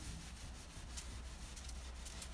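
Steel wool scrubs stained varnish off a sanded wooden china cabinet in a steady, close, continuous rasping rub with no talk.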